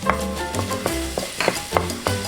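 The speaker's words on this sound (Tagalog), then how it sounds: "And then let's add our 3 cloves of garlic" Finely minced garlic, three cloves, stir-frying in a pan with a spatula, giving crisp rhythmic scrapes and clinks about every third of a second over a soft sizzle, close by and with no voices.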